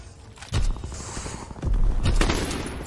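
Flak gun fire in a Call of Duty game, two heavy booming bursts with rattling mechanical crackle and a lingering rumble between, loud and close with no talk.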